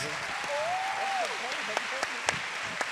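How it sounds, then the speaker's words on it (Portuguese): Applause from a seated audience at a panel on Brazilian telenovelas, mixed with a cheer-like vocal rise and a few sharper claps standing out near the end. "Palmas."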